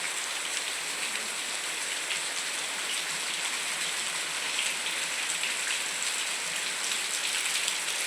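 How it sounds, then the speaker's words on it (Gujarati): Heavy rain drums on metal roof sheets, a thick constant patter that never lets up, with no voices present. "અહીંયા પતરા નાખેલા છે ને તો બહુ વધારે વરસાદ એટલો આવે છે"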